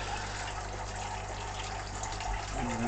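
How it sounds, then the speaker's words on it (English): In a hydroponic greenhouse, drip spikes water pepper plants with a steady trickle of running water under a constant pump-like hum. "the peppers are just getting watered using drip spikes"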